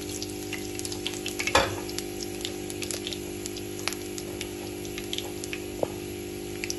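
Cumin frying in oil in a pan for dal makes a steady, close sizzle with fine crackles throughout and a brief louder burst as the seeds hit.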